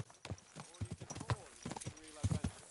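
Hoofbeats of a horse moving quickly in Kingdom Come Deliverance 2, the medieval role-playing game, a rapid uneven clatter of close, sharp hits while someone speaks over them.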